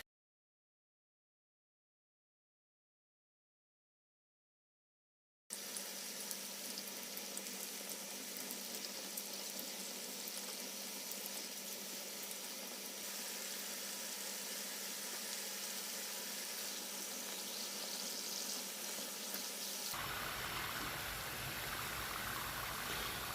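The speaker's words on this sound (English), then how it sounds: "I'm going to wait for the oil to reach its temperature and then place the spring rolls for frying" Spring rolls frying in hot oil over a medium flame, a steady dense sizzle that starts after several seconds of silence and holds evenly close up, turning slightly brighter near the end.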